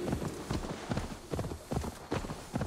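A horse gallops in Assassin's Creed Valhalla, its hoofbeats thudding in a quick, even rhythm of repeated bursts, fairly close and loud.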